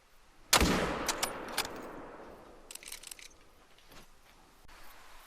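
A single loud hunting rifle shot fired at a deer in a hunting game near Layton Lake, a sharp crack with a long rolling echo fading into quiet, followed by a few faint clicks.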